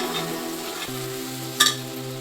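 Mushrooms and masala frying together in a pan for mushroom biryani, a soft steady sizzle with a low hum behind it and one brief louder scrape or clatter of stirring.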